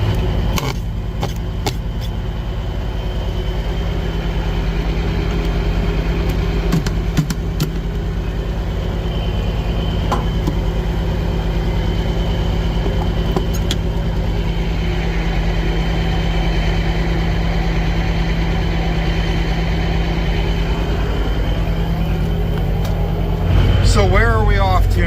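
Truck engines idle steadily while warming up before a trip, a continuous low diesel rumble with a mid-range drone running throughout, close by and fairly loud, with a brief thump near the end.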